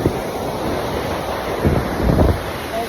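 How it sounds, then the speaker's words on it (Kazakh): Ocean waves break on a shore of the South China Sea, a steady surf wash with wind buffeting the microphone and a couple of louder surges rolling in near the end. "Толқын әдемі болып тұр тура."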